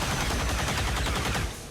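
Chain shot gunfire in the strategy game XCOM 2 War of the Chosen: a rapid, rhythmic burst of automatic fire lasting over a second, then trailing off.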